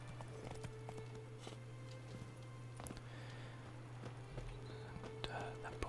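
Roach the horse clip-clops in The Witcher 3, soft hoofbeats trotting through a faint, hushed game soundscape with a steady low hum and occasional whispered speech.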